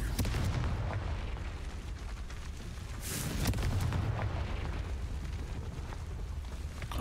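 A Confringo blast spell bursts in Hogwarts Legacy, a deep rumbling explosion swelling around the middle of the clip over a continuous low roar of game ambience.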